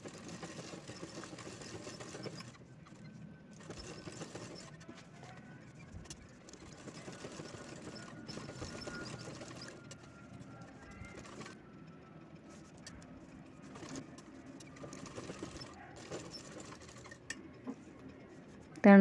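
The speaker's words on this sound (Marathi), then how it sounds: "त्यानंतर साईडनं शिलाई घ्यायची पूर्ण." A sewing machine stitching quilted fabric for a wall hanging organizer, running in quiet, rapid bursts separated by brief pauses, faint and close.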